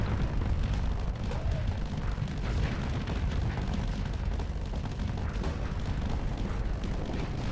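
Dense, continuous rumbling booms and bursts from a mega gun firing with explosions in the space strategy game Star Sector, loud and unbroken throughout.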